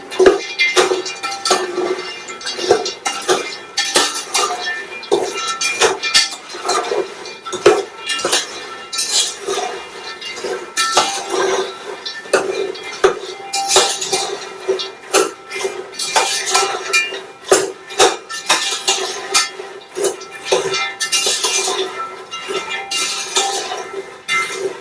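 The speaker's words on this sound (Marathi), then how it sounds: "सो आता ह्याला चांगलं हलवा." A metal utensil stirs food in a cooking pot for a homemade snack, clinking and scraping against the pot in an irregular, fairly loud rhythm. Brief knocks mix in, with no one talking.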